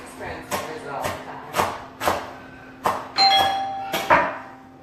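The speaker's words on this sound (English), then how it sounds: "What? 2 doorbells?" Doorbell chiming in a home kitchen, with repeated ring tones and thumps from nearby activity.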